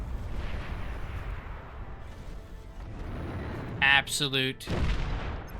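Banisher missiles detonating in a video game battle, heavy rumbling blasts and dense gunfire-like crackle rolling continuously and loud, with a voice briefly cutting in near the end.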